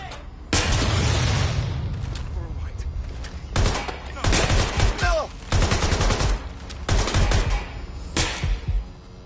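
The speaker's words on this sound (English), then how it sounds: "Shit, grenade." Heavy explosive blasts and bursts of gunfire in the video game Watch Dogs Legion, loud and close, arriving in several distinct waves with short gaps between them.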